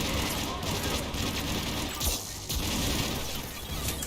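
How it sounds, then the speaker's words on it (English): Rapid heavy gunfire from a weapon in the video game Mass Effect 3, dense thudding bursts that fill the whole stretch, loud and close. "I love this gun. This is the visceral thud of the thing is just wonderful."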